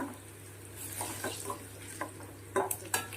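Curry leaves and dal frying in a hot pan, a soft sizzle under light stirring and a few scraping clinks of a spoon against the pan, close by.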